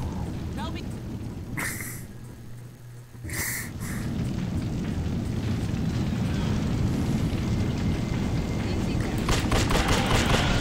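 Gunfire in the video game The Suffering: a continuous roar of battle with rapid shots and booming impacts, loud and sustained, under voices talking.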